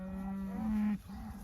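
A single long cow moo rings out close by near a pond dam in a brome paddock, a drawn-out bellow that stops abruptly, followed by quiet low rumbling.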